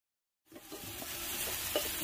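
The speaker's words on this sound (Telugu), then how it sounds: "ఇప్పుడు ఇందులో సొరకాయ ముక్కలు వేసుకుందాం। ఇలా బాగా కలిసేలా" After a moment of silence, bottle gourd pieces hit a hot frying pan and sizzle steadily, with soft scraping and clacking as they are stirred, close and continuous.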